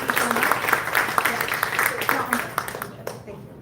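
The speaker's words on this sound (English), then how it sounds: "Can we get a round of applause?" A crowd applauds the organizers of a women's summit in Washington, DC: a steady, dense patter of many hands clapping fills the room, thinning out toward the end.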